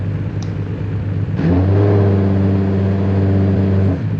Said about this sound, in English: you can't do that revving while in like neutral